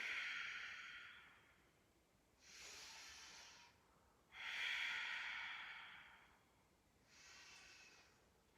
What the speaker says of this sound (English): Let's do deep, deep, deep, long breathing.